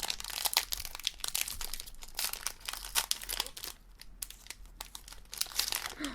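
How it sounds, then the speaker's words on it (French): A Yu-Gi-Oh! card booster pack holding 18 cards is torn open, with its foil wrapper crinkling and crackling in continuous close, quiet bursts, no speech. "on va pouvoir procéder à l'ouverture avec 18 cartes à l'intérieur"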